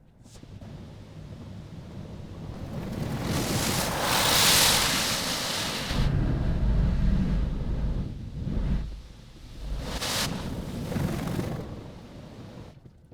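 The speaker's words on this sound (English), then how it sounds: "We got the works on this wash, so we're getting nice and foamy." Automatic car wash sprays water and foam over an electric car, heard from inside as a loud roaring rush of water and air that swells and fades in waves, with strong bursts as jets pass.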